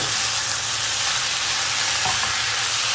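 Tomato paste fries in a pan, giving a dense, even sizzle that holds steady and close throughout, with no talking.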